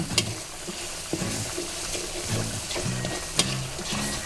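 Gentle sizzling as curry paste fries with coconut cream in a pan, a spatula scraping and stirring in an irregular rhythm, close and fairly quiet.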